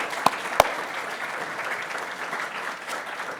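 Audience applause at a college athletics hall of fame ceremony, a steady wash of clapping with two sharp louder claps near the start, moderately distant in a hall.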